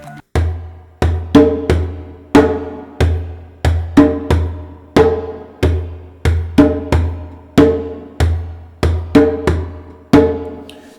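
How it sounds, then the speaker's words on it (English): Djembe playing a repeating soccer-style beat, three deep bass strokes struck near the drumhead's center followed by a sharper tone stroke, in a steady rhythm, close and clear with no talking. "you need to play the first 3 beats using the bass tone close to the middle of the djembe, and then the 4th beat you use the tone"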